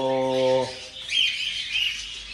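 Birds in a backyard aviary chirp and twitter in high bright calls after a brief harmonic hum fades, moderately loud and close.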